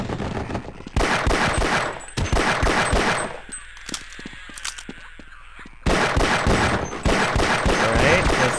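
Rapid handgun fire in the video game Half-Life comes in dense bursts of repeated sharp shots, broken by a quieter stretch with separate metallic pops before the shooting starts up again loudly.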